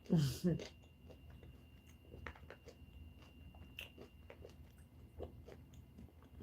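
Kimchi being chewed close to the microphone, a couple of crisp bites at first followed by soft, irregular chewing and mouth sounds, quiet throughout with a little speech.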